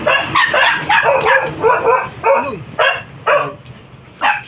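A pet dog at home barks repeatedly at close range, sharp yapping bursts in an uneven rhythm, some barks stretching into whiny yelps.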